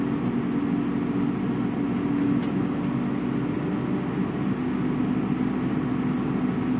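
Hydraulic excavator swinging around while digging a grade-controlled hole, its steady low engine drone and hum running evenly and moderately near throughout, with no voices.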